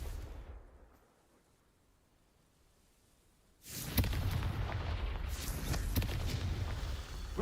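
The Confringo blasting spell goes off in Hogwarts Legacy after a quiet lull, a sudden loud explosive boom followed by sustained rumbling blast noise and crackling impacts.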